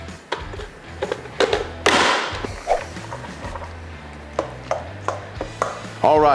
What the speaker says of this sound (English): Now we're gonna do about 3/4 of a red onion. You chop it however you like.